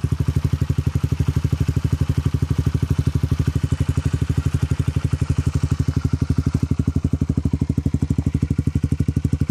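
A 2011 Honda CBR125R motorcycle engine idles steadily with a rapid, even, pulsing burble, loud and close, with no voices.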